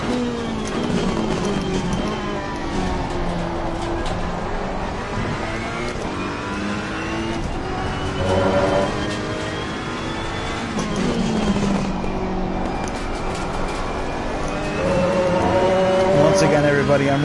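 Loud race car engine in the PS4 racing game Assetto Corsa Competizione at Kyalami, revving steadily with repeated rises and falls through gear shifts across the whole stretch, with a voice talking over it.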